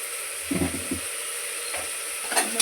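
Homemade sambar powder frying in a hot pan for tomato bath, a steady soft sizzle with a few low scraping stirs of a spoon.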